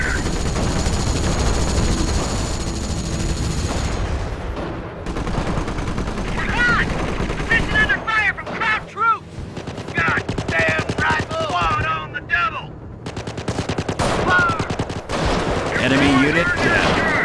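Dense game-battle gunfire from Company of Heroes, with rapid machine-gun bursts and scattered rifle shots crackling loudly throughout, under shouted soldier voices and radio chatter in a Normandy combat scene.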